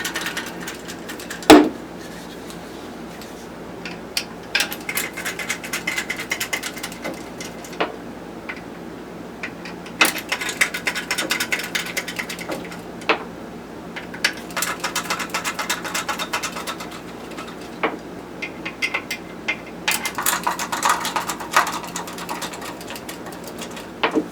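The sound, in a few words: removing screws from PC case bottom piece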